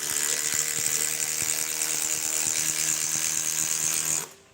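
A Milwaukee power tool drives a socket that is running hot, whirring loud and steady at close range for about four seconds before it cuts off abruptly.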